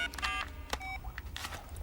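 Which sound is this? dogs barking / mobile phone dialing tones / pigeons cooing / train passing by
mobile phone dialing tones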